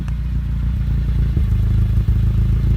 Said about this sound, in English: let's come around here and listen to the exhaust real quick before we go down the road in it